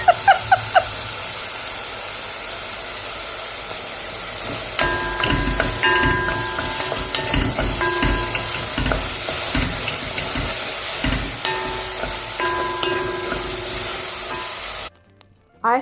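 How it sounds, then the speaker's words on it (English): A spoon repeatedly knocking against a pan while breakfast cooks, irregular clinks and scrapes over a constant frying sizzle and hiss, close and moderately loud, ending in a brief quiet gap. "don't bother to tell me about the spoon hitting on the pan"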